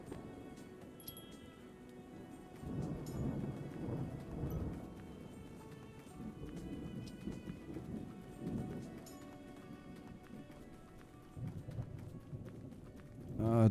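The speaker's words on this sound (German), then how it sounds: "Schöner Gewitterschiss." Rain patters steadily with low rolling thunder in a Tavern Manager Simulator thunderstorm, a soft continuous wash with swelling rumbles and a louder burst at the end.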